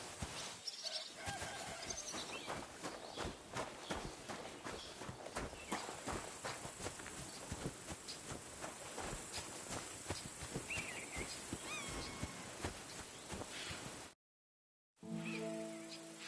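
Horse hooves clopping at a walk in the medieval video game Kingdom Come: Deliverance, steady and continuous over a busy ambient bed with occasional birdsong, cutting out briefly near the end.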